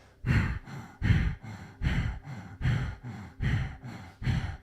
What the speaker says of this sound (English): It's not only emphasizing the exhale, but it's the inhale and exhale.